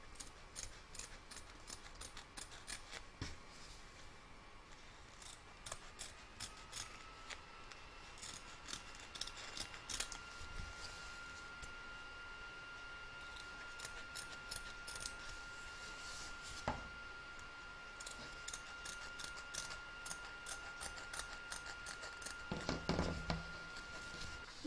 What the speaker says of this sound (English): just cut around them close to the stitch line